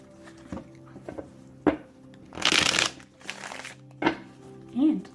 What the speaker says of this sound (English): Oh, good long shuffle on this one.